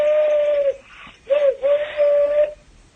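A hollow, breathy hooting blown through the hands imitates a pigeon's call, in a few drawn-out notes with short pauses between.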